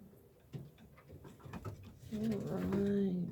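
A pigeon coos close by in soft, low rounded calls that swell near the end, with faint handling rustles and patter beneath.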